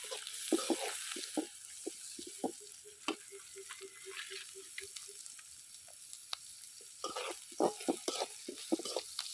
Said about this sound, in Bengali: পেঁয়াজটা আমি একটু হালকা বাদামি কালার করবো, হালকা ভেজে নেব